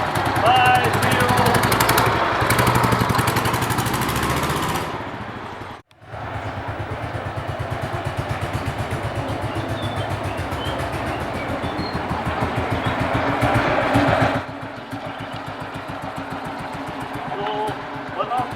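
A 1938 BSA M20 motorcycle pulling away in first gear: a loud, close single-cylinder thump that drops briefly, then resumes as a steady rapid chugging and fades somewhat near the end.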